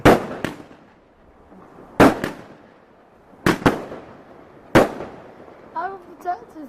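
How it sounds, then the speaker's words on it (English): Bonfire Night fireworks explode in four sharp, loud bangs spaced about a second and a half apart, each with a short echoing tail, followed by people talking nearby. "Last fireworks."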